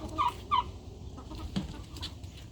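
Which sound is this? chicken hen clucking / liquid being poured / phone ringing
chicken hen clucking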